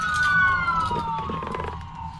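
A local ambulance or fire department siren passes by, its wailing tone sliding steadily downward as it recedes, loud at first and then fading, with some clatter and rumble underneath.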